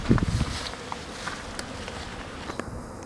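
Honeybees buzz faintly at a hive entrance on a windy winter day, a thin, steady hum under soft gusts, opened by a brief low thump.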